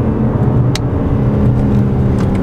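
A 2021 BMW M4 Competition G82 accelerates hard on country roads, its engine a loud, steady, close roar that holds for the full stretch, with no voices.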